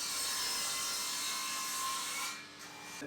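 A handsaw rasps through a wooden board at an angle for an outdoor garden sofa, a steady close scraping stroke that stops shortly before the end.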